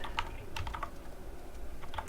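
Quick, close keystrokes on a computer keyboard while JavaScript code is typed, clicking in short irregular clusters with brief gaps.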